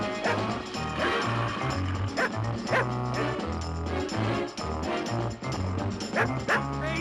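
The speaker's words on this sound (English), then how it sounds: "Hey, Jay, call that dad-blamed dog off." A hound barks and yips repeatedly at a bear in a 1974 Disney Western, the barks coming in rapid bursts over a dense, continuous background.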